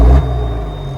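Engine of an M923A2 5-ton USMC truck running on a first start, a heavy low rumble that opens with a loud thump and settles into a steady, close idle drone for about a second.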